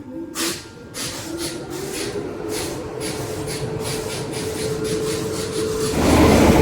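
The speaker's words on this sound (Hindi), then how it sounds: "ट्रेन का चलने का टाइम हो चुका है" A train pulls out of Lucknow Charbagh railway station with a steady, broad rumble and hiss, swelling louder toward the end. No voices are heard.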